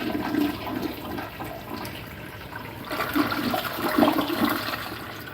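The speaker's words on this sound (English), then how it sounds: "why does the flush on this particular Wellworth bowl just cut off so short?" A Kohler Wellworth toilet flushes with a steady watery rush that swells and ebbs for several seconds, close by and with no one talking.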